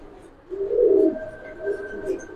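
Pigeons at a pigeon farm giving soft, low coos, one fuller throaty coo followed by a couple of fainter ones close by.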